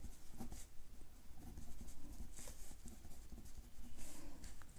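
Pen writing on paper for a maths exercise, a steady close scratching with short strokes and brief pauses, alone at a low level.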